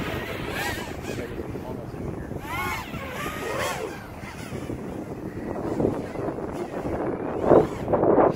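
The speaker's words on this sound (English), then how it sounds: "It's pretty windy." Wind gusts buffet the microphone outdoors during drone flying, a steady rumble with swells rising near the end, heard under intermittent talking voices.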